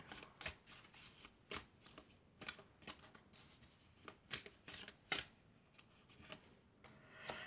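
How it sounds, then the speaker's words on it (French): Cards shuffled by hand for a tarot-style reading make a series of close, crisp riffling bursts in an uneven rhythm, with quiet pauses between them. "Alors, on va prendre encore quelques cartes."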